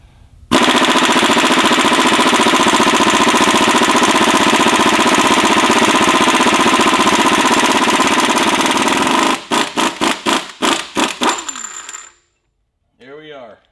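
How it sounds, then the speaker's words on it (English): A pneumatic impact wrench, on a 3/4-to-1/2 reducer, hammers a 1.5-inch nut off the front accessory housing of a Detroit 12V71 engine: a loud continuous rattling burst of about nine seconds, then several short stuttering bursts, a pause, and a brief final rattle. "I've reduced to 3/4 to half so I could use my impact on it"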